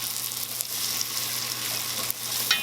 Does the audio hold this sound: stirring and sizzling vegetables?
yes